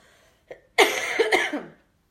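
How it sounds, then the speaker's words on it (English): A single harsh, rasping cough close to the microphone, preceded by a small catch of breath. "This is not a fun cough to have."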